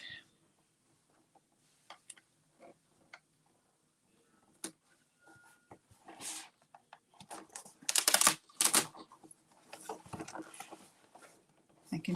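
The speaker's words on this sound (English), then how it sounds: "Making sure I'm just turning one page." Thick pages of a Stampin' Up! stamping kit album with sturdy card pockets are turned by hand in a quiet room: faint scattered taps, then a few louder rustling flips of paper.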